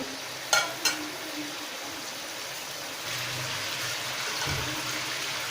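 Chicken karahi frying in a pan, dhaba style, with a steady soft sizzle and hiss throughout, a couple of sharp clinks of the spoon early on and low scraping stirs in the second half; no talking.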